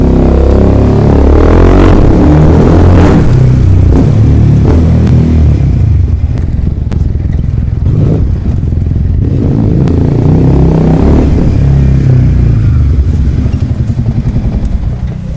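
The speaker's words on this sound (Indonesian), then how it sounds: "Oke, langsung kita tes sound dari quick shifter." Yamaha R15M motorcycle with a quick shifter revving hard nearby, loud continuous engine roar rising and falling through several surges, with crackling shifts and clatter and no talk.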